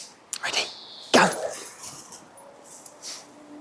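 Springer spaniels at play give a couple of sharp barks and yips, then softer whimpers, close by, as people talk.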